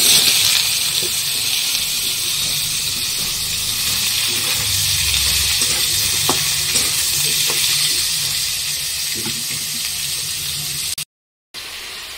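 Panch phoron, bay leaves and chopped bottle gourd sizzle in hot oil in a pan, a steady, close hiss running throughout with a few faint clinks, then a brief dropout near the end.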